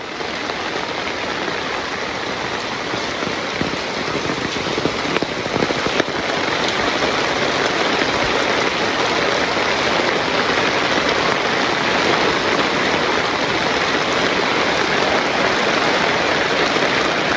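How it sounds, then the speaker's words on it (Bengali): Heavy rain pours steadily in a rural village during flooding, a dense, continuous loud hiss close by with no pauses, spread across the whole span without voices. "প্রচুর বৃষ্টি হইতেছে প্রচুর বৃষ্টি"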